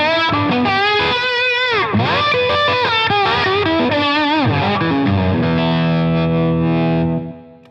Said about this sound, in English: It's just the bridge pickup by itself.